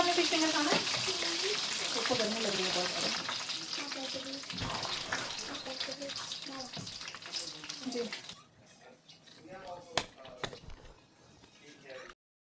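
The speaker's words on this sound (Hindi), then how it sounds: "और दूसरी तरफ मेरे जो चिकन स्ट्रिप्स हैं वो भी फ्राई हो रहे हैं।" Chicken strips fry in a pan with a steady, bright sizzle that carries for several seconds, then drops away to quieter clatters and a couple of sharp knocks.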